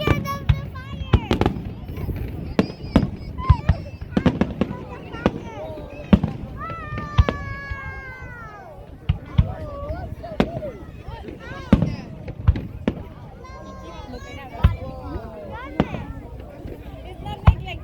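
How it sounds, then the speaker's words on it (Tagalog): Canada Day fireworks display with repeated sharp bangs and crackling bursts at irregular intervals, near and loud, while children talk and exclaim excitedly over the blasts. "I like the fireworks!"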